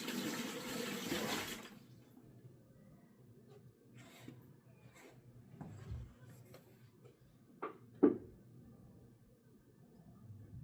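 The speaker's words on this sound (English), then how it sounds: "I'm gonna dump this water into here." Water poured into a home aquarium: a soft, splashing rush for the first couple of seconds, then quiet with a few faint trickles and small sharp knocks nearby.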